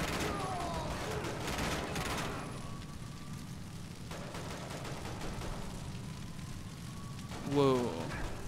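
Bursts of gunfire from the 007 Quantum of Solace shooter game, dense and steady through the opening seconds, thinning out afterward, with a player's voice talking over the action.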